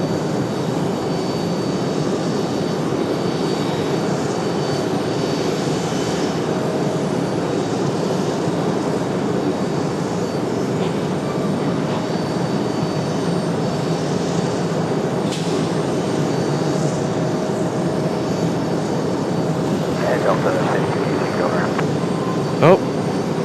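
Delta airliner at Raleigh-Durham International powering through a go-around, a broad sustained jet roar rumbling continuously at mid distance, with faint radio chatter and a small click near the end.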